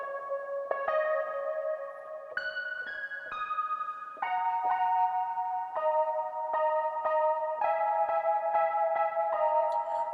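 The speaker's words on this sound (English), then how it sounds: "it's a poly synth, and it sounds like this." A poly synth plays a bouncy chord pattern in a beat, with short repeated stabs shifting between chord changes, bright and effect-laden, alone without talk.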